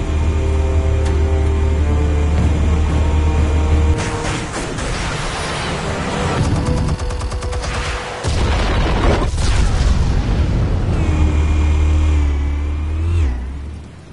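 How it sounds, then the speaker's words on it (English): Explosives detonating in the Batman Telltale video game: loud, sustained booming blasts and rumbling bursts over a low engine-like drone, with a brief drop midway before the roar returns and fades at the end. "Explosives armed. Fire when ready."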